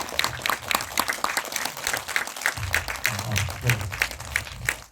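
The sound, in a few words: audience applause for film director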